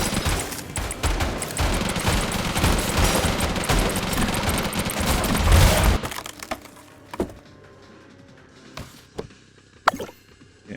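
A minigun fires in the Deadly Days Roadtrip game, a dense, loud continuous burst of rapid shots and impacts lasting about six seconds, then stopping abruptly, followed by sparse scattered pops and cracks.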